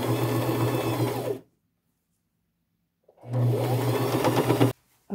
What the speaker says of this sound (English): I am just going to sew that on the outside along that edge to finish it off